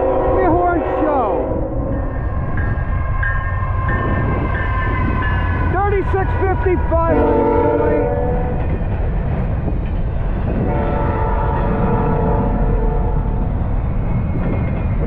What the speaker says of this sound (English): What a train this is! Only one locomotive.